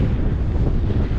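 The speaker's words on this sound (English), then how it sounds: "It's a windy day." Strong wind buffets the microphone during an outdoor bike ride on a windy day with a crosswind, a loud, constant low rumble with no voices.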